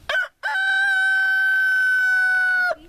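A rooster crows once, a short opening note, a brief break, then a long, loud, sustained call held close by for about two seconds before cutting off, with no talk.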